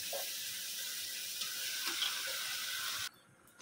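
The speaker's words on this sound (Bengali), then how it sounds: "এখন কলিজাগুলো দিয়ে দেবো।" Chicken liver pieces hit a pan of cooked spiced masala, a steady close hiss of sizzling that runs for about three seconds and then cuts off abruptly.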